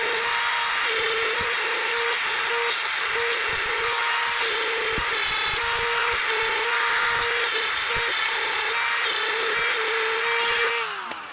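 Power sharpener grinding a 28-inch full comp chainsaw chain, a loud high whine broken into rapid rhythmic bursts as each tooth is touched up, ending with the motor spinning down, no talk.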